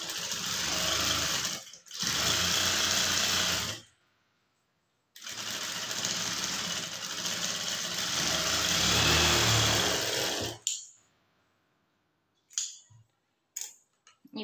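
An electric sewing machine stitches a blouse in three sustained runs of rapid, steady whirring, close and loud, with short stops between and a few faint clicks at the end.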